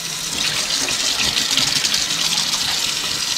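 Steady rushing of tap water splashing into a basin while washing crabs, continuous and fairly loud with no talking.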